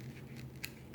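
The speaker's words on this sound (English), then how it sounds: "we're going to turn it this way and cut right through the middle" A single quick snip of scissors cutting through craft paper, faint and close in a quiet room.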